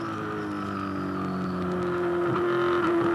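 A Supercars race car engine hums steadily, heard onboard during the 2005 Queensland 300, its pitch shifting slightly as it rises, with road and wind noise underneath.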